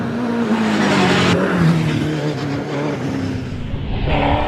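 A latest-spec hillclimb race car with a rear-mounted 2.8 V8 at the British Championship at Prescott, its engine howling loudly through the gears with shifting pitch and a sharp rise in revs near the end.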